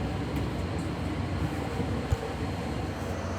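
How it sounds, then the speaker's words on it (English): A double-decker SunRail commuter train leaving Sand Lake Road station, a steady low rumble of rolling cars at moderate distance, with one small clank partway through and no talking. "Here is our double-decker Sunrail train leaving Sand Lake Road on its way to Kissimmee and Poinciana."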